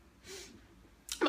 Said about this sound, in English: Oh, I think I have to sneeze.